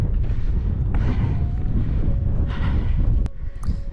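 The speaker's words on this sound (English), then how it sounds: "it's always windy on this summit" Gusty wind buffets the microphone on the exposed rocky summit of Gowbarrow Fell above Ullswater in the Lake District, a loud, rough roar that swells and eases in waves without any talk.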